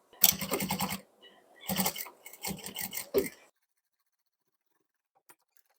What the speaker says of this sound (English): We'll go and stitch back and forth a few times here and back and forth a few times there.